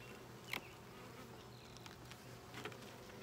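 A soft, steady hum of many honeybees buzzing close by at an open hive during an inspection, with a couple of faint knocks and no talking.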